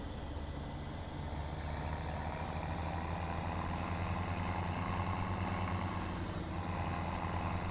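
A tractor engine in Farm Simulator 17 drones steadily with a low rumble, hauling a wood chipper toward the sawmill, holding a constant loudness throughout with no voices.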